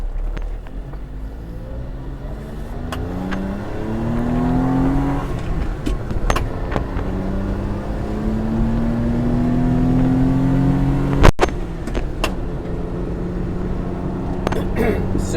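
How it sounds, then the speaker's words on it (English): A 1993 Suzuki 4x4 Japanese mini truck accelerates up a steep hill in fourth gear, its small engine droning steadily and rising in pitch from inside the cab, with a brief knock partway through. "in fourth gear, and it's accelerating really nicely, which is a good sign of good compression"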